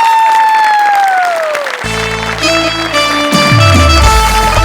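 A studio audience applauds at a Marathi comedy sketch show, with broad, sustained clapping mixed under loud stage music. A falling synth sweep and a shift in the music to a new cue sit on top of the clapping.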